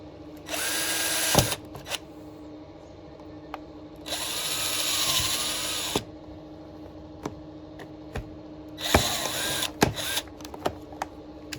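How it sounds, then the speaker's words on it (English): A power drill whines loudly in three separate bursts while drilling a hole, each lasting one to two seconds, with quieter clicks and handling noises in the pauses between. "Probably end up drilling a hole"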